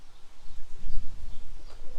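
Young squeaker pigeons from a training kit coo softly and close by, a low throaty burbling rising and falling over two seconds.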